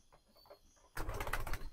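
Pigeons feed at night, with soft scattered sounds at first, then a sudden loud burst of wing flapping and close fluttering for the last second, with no talking.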